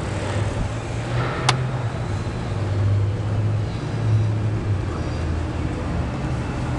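Idling six-cylinder engine of a 2009 Toyota Sienna LE minivan in like-new condition, a steady low hum with a faint tonal drone and one brief high click near the start, no talk over it.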